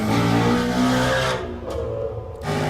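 A Chevrolet Camaro Z/28 and a Ford Mustang Shelby GT350R launch side by side with loud, revving V8 engines that quickly recede, followed by a brief rasping burst at the end.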